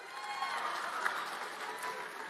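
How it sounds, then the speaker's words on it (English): A crowd claps steadily in a live audience at a Turning Point USA event at George Washington University, a dense, even wash of applause that holds for the whole stretch without pause. "I'm going to pretend you're clapping for Jesus, okay?"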